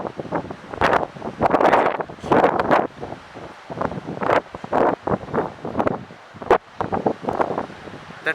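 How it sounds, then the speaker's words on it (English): Sea waves at sunrise on the coast at Dhanushkodi, heard as repeated broad surging washes heavily mixed with gusty wind buffeting the microphone, with no talking. "The sound of the sea and this sunrise"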